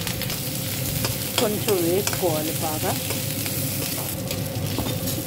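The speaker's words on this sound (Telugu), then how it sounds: "ఇది కొంచెం వేగిన తర్వాత అల్లము, పచ్చిమిర్చి, కరివేపాకు, వెల్లుల్లి వేసేయాలి." Onions, ginger, green chilli, curry leaves and garlic sizzle and crackle steadily in hot oil for a pulusu upma, with a spoon stirring through the pan and someone speaking briefly over the frying.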